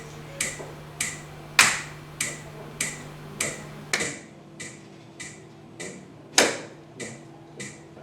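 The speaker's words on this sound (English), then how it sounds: "the way of following the tal is to clap at the beginning of each of these groups" Sharp hand claps keep the beat of tin tal in Hindustani classical music, a steady evenly spaced series of about fourteen crisp claps, with a few landing louder as accents.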